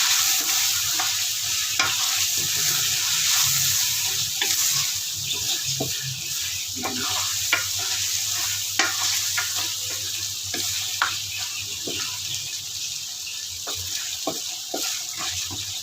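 Mutton karahi with karahi masala stir-fried in a wok, a steady loud sizzle running throughout with repeated scraping and clinking of a spoon against the pan, no voices.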